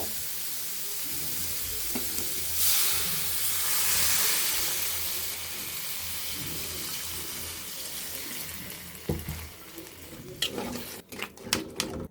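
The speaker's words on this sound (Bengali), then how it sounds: "আমাদের সিমগুলো কষানো হয়ে গিয়েছে, এখন আমরা জল দিয়ে দিব।" Water pours into a pan of flat beans being cooked for a rohu fish curry, a sizzling hiss that swells as the water hits, followed by simmering bubbles and a few utensil clinks near the end.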